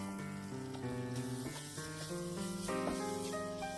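Gram flour and coarsely crushed lentils fry in hot oil, giving a steady, continuous sizzle under a prominent tonal melody that runs throughout.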